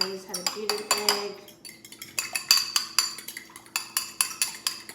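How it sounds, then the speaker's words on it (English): An egg is whisked briskly in a dish, a utensil clinking against the bowl in a fast, regular rhythm of sharp taps, close and clear, with a brief pause early on. "I think everybody knows how to beat an egg."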